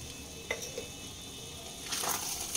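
Chilli fish with spring onion sizzles steadily in a pan over a medium flame, with a couple of faint utensil clinks and a brief louder burst of frying near the end.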